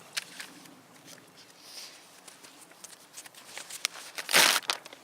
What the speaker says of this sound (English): So I'm just going to use paper to start a fire with. Just some regular good old notebook paper here.